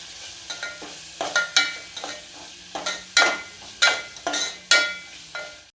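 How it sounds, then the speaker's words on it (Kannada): Tomato frying with a teaspoon of red chilli powder for Udupi-style sambar, stirred in a pan: a steady sizzle broken by repeated scraping strokes of a spoon, about a dozen in an irregular rhythm, close and fairly loud, no talking. "ಇದಕ್ಕೆ ಒನ್ ಟೀ ಸ್ಪೂನ್ ಆಗುವಷ್ಟು ಕೆಂಪು ಖಾರದ ಪುಡಿ ಹಾಕತೀನಿ ಇದನ್ನು ಫ್ರೈ ಮಾಡ್ಕೊಳ್ಳೋಣ"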